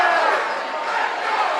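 A high school varsity basketball crowd in a gym is on its feet cheering during a tied fourth-quarter timeout, a dense steady roar of voices that holds at full loudness throughout.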